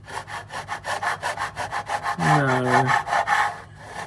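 A smooth piece of metal is rubbed back and forth against a stain on a glass induction cooktop, making a rapid, rhythmic rasping scrape at close range. Partway through, someone briefly says a word over the scraping.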